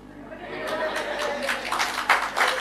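A church congregation breaks into applause during a sermon, starting softly and swelling into brisk, scattered clapping with a few sharper bursts, a voice faintly audible beneath.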